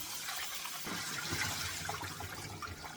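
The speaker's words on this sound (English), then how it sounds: "I'm going to go ahead, top it up with water" Water steadily pours into a pot of soaking pea beans for Cameroonian koki, a continuous splashing, gushing stream like a running tap, heard alone and fairly close.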